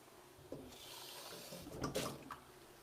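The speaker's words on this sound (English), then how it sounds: "Let me just rinse out my onion." An onion is rinsed under a running kitchen tap: a soft, continuous stream of water with brief rubbing and splashing swells as the onion is turned, quiet and close.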